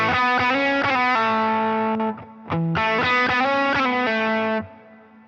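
Les Paul electric guitar with the volume knob rolled back slightly, giving a thick, slightly driven tone, plays sustained chords and picked notes, close and loud, then rings out into quiet.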